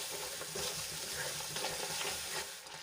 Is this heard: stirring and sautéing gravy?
yes